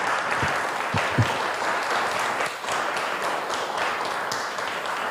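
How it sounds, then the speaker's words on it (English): Warm audience applause for readers at a poetry festival in Singapore, a sustained crowd of clapping hands with a few sharper individual claps standing out near the start. "Ladies and gentlemen, please give a warm round of applause to our readers."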